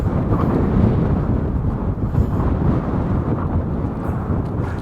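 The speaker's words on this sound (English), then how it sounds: "it's quite windy out in this area" Heavy wind buffets the microphone, a continuous loud low rumble with roaring gusts and no other sounds.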